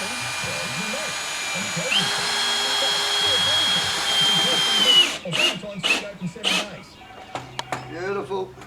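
Milwaukee power tool driving a screw into wood while fitting an automatic door closer: a close, loud, steady whine that builds and then stops, followed by short bursts and knocks as people talk.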